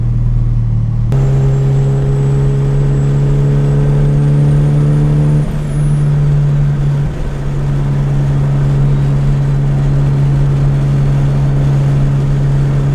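A Honda Civic heard from inside while driving, its engine humming steadily and loudly with a rise as it accelerates, a brief pitch change midway, then a constant cruising drone with road noise.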